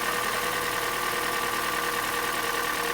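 A Hyundai Elantra engine idles at about 1000 RPM, a steady, even mechanical hum and whir with no talk over it.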